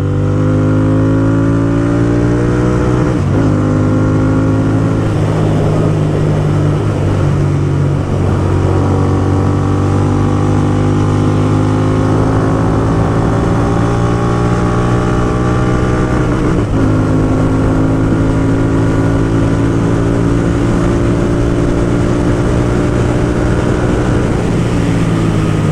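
A Royal Enfield Interceptor 650 motorcycle fitted with a loud Gursewak exhaust accelerates hard. Its engine roar climbs through repeated gear pulls with short breaks at the shifts, loud and close throughout, and no one speaks.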